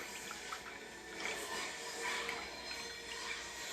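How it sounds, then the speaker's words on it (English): A make-up brush is rinsed in lukewarm water, giving a soft continuous swish and trickle with gentle splashing swells, quiet and close, with no talking. "I'm gonna put it into that lukewarm water and rinse it off."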